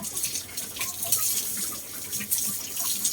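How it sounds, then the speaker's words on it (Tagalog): Water splashing and running steadily as pigs are bathed in a backyard pen, with uneven spattering bursts close by throughout. "Pag nalagyan ng tubig ang kanilang tainga, pumipisik-pisik talaga."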